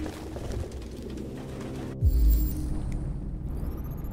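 Pigeons coo in a room packed with over a hundred birds in Detroit: Become Human: a low, steady murmur of cooing runs throughout, with a louder thump near the middle and faint mechanical hum behind.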